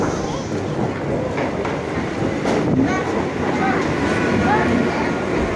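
A train pulls into Kanchrapara railway station in heavy rain, a steady loud rumble of wheels and carriages with clattering over the rails, heard close on the platform with some voices underneath.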